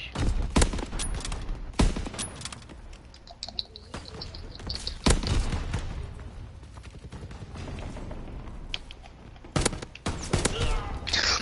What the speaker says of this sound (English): I shot the freaking wall with my Panzer